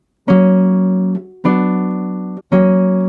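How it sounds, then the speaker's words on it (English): Three clean sustained chords ring out in turn, a major five chord resolving to the one chord, each struck cleanly and decaying slightly before the next. "and the major chord 5 moving to chord 1"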